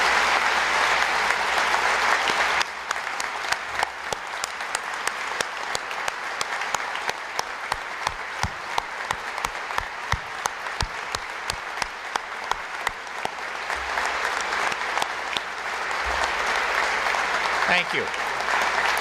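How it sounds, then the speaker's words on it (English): A large audience at the Michigan State of the State Address breaks into sustained applause for service members and their families, a broad, steady roar of many hands with sharp individual claps standing out, running nearly twenty seconds. "So if you'd join me in a round of applause for all those wonderful people serving us."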